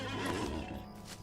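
A horse whinnies clearly and close up as a steed is summoned in the Lord of the Rings Online video game, one short neigh with no talk over it.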